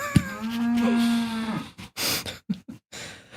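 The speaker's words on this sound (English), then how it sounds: "I think she saw me when I was looking out the window, and then she came here and started mooing at me" A cow moos loudly and close by, one long sustained low call lasting about a second and a half, followed by a few short rustles and knocks with no talking.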